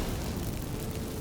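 A magic fireworks spell in The Witcher 3 game gives off a continuous dense rushing, crackling roar, loud and steady from start to finish, with no speech.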